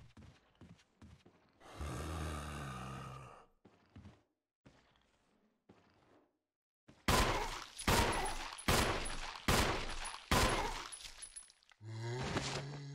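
Gunfire aimed at zombies in the Resident Evil video game, a sharp burst of several loud, evenly spaced shots, preceded by scattered footsteps and clatter, then a rumbling noise at the end.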